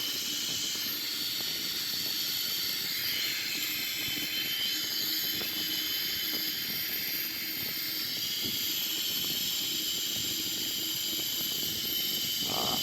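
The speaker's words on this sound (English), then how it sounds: "Left wing engine on, and now we go into the right wing engine." Boeing 777-300ER jet engine spooling up during start in a flight simulator, a steady loud hiss and roar with high whine running continuously without speech.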